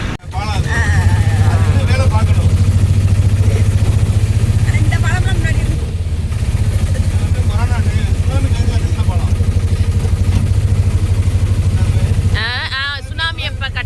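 A motorcycle engine idles close by with a steady low rumble throughout, briefly dipping mid-way, while people talk over it.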